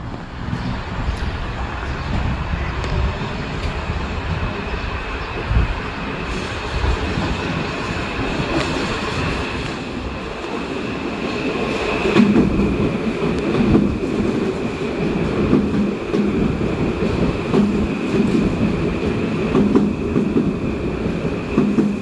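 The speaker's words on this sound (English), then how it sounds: "we've got two trains, one that stopped here and one that skipped" Continuous rumbling roar of Amtrak and Metro-North trains moving through New Rochelle station, one stopping and one passing through, with rolling wheel noise and a brief metallic squeal, steady and loud throughout.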